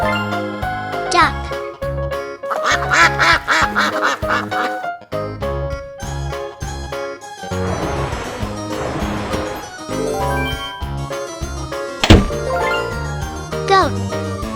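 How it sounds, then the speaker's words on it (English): A duck quacks a few times on a farm, set against a continuous bouncy children's music backing with chimes and jingles. "Duck."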